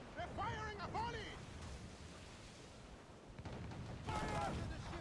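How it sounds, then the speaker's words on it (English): A volley of gunfire in the naval combat of Assassin's Creed Freedom Cry, bursts of shots over wind and surf, with shouting voices mixed in. "They're firing a volley!"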